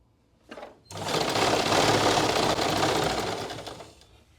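A sewing machine stitches salwar fabric in one steady, loud whirring run of about three seconds, starting after a short burst and fading out at the end, with no talking.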